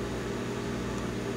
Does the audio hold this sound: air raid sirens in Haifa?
no